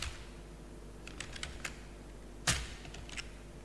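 Clicks of a computer keyboard as code is typed: a handful of faint, scattered keystrokes, then one sharper, louder key strike and a few more light taps in a quiet room.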